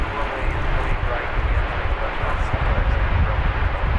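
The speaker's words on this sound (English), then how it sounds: "It's American Flight 5050. A 777-300 ER." An American Airlines Boeing 777-300ER jet airliner at DFW Airport produces a loud, steady engine roar with broadband rushing noise, sustained throughout without breaks.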